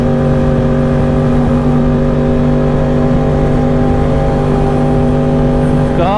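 A motorcycle riding along the bumpy Multan road near the Muzaffargarh bypass, its engine a loud, steady drone with strong tonal hum and wind rush, rising in pitch briefly near the end.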